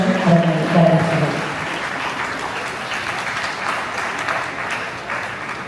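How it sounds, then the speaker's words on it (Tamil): An audience claps to welcome the chief guest at a Salute To Mothers celebration, a dense, steady burst of applause throughout, strongest at the start with a voice briefly over it. "அவர்களுக்கு மிகுந்த கரகோஷத்துடன் அவர்களை வரவேற்கிறோம்."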